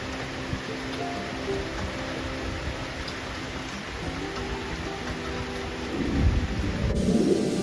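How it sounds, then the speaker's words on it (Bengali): Heavy rain pours down steadily with rolls of thunder, a dense continuous hiss that swells louder near the end, with no voices over it. "তো এইদিকে ঝমঝমিয়ে বৃষ্টি পড়ছে তোমরা শব্দ শুনতে পাচ্ছ"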